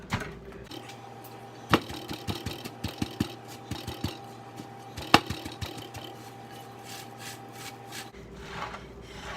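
Fists punch shredded, salted cabbage for sauerkraut in a steady series of dull, sharp thumps and crunches, close and fairly loud over a faint background hum.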